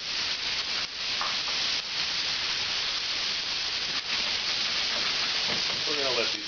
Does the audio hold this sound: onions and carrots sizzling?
yes